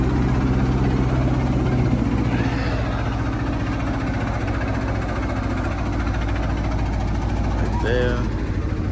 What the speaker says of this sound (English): I want to get this train pulling in at nighttime